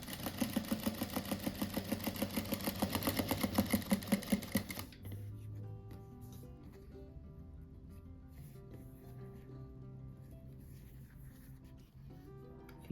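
A sewing machine stitches fabric for a pointed-edge rug, running fast and rhythmic with a dense, even rattle for about five seconds before dropping to a quieter hum with faint mechanical ticks.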